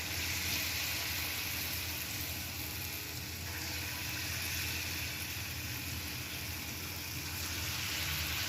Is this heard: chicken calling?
no